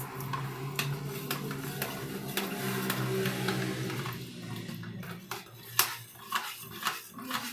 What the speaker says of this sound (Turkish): Şimdi ise kaşığımızı alıp karıştırıyoruz.